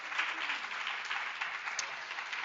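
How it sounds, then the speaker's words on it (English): An audience at a university Three Minute Thesis event gives a round of applause, steady dense clapping throughout, moderately loud with no talk over it. "if you could give a quick round of applause"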